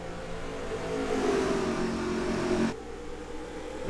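Race cars accelerating together on a short track at Myrtle Beach, a loud mid-pitched engine roar rising and holding, then dropping off abruptly as the pack passes, with a lingering lower drone after.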